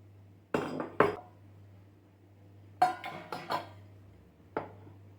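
A metal pressure cooker vessel being handled and oiled for dhokla, giving several sharp clanks and clinks in two clusters with a softer knock near the end, close by over a low steady hum.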